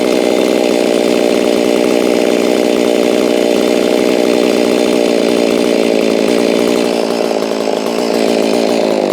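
A Holzfforma G660 chainsaw idling steadily and loudly up close, running poorly, a continuous buzzing drone with no pauses.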